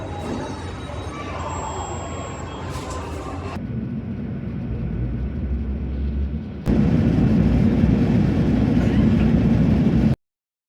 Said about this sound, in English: There is one taking off from the back already.